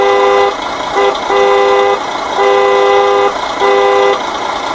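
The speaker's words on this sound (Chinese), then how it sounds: "油门摇杆往右就是喇叭声。" Toy horn of an RC Land Rover Defender 90 Camel Trophy model, four loud electronic beeps in an uneven pattern with short gaps, close and clear over a faint steady hum, no talk.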